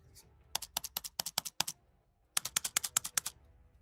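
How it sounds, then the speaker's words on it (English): Computer keyboard keys pressed in two quick bursts of sharp, crisp clicks, close and clear, with a brief pause between the runs and no talk. "The enter key sounds like this."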